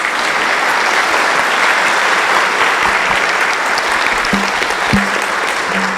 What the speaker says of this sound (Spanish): Lo recibimos con un cariñoso aplauso